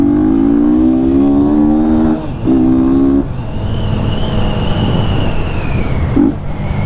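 A Yamaha FZ 250 motorcycle running without an air filter roars with a steady engine tone, then briefly drops in pitch, joined by a traffic wash and a passing high whine.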